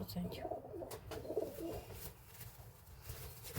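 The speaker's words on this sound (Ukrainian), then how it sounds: "Такі такі голубі." Pigeons coo softly in a loft, low repeated throaty calls close by, with wing rustles and light background noise.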